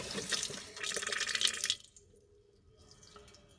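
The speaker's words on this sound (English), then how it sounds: "We got cold water coming through." Cold water gushes from a newly installed RV kitchen faucet into a bucket for under two seconds, then shuts off, leaving a quiet room with faint drips.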